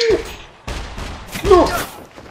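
Gunfire in the survival game SCUM during a city shootout: a sharp shot opens, then further burst-like blasts and echoing reports follow at close range, mixed with game sounds and a voice.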